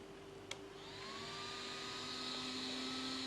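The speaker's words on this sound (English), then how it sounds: "that fan fairly gets wound up" A small 5-volt cooling fan inside a Tamiya Midnight Pumpkin RC car spins up after a brief click, its steady whine rising in pitch and settling into a sustained, fairly quiet whirr.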